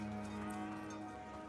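Cows in Dungeons of Hinterberg low in a long, steady moo with droning tone, moderately close and alone over quiet game ambience.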